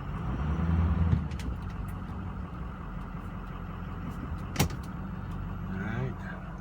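A 2007 Ford F350 diesel truck shifted into reverse, its engine idling in a steady, close rumble with a brief clunk partway through.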